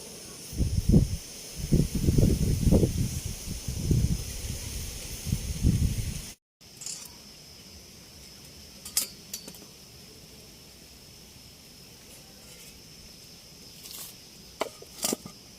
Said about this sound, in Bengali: আলুগুলো আগে ছুলে নেবো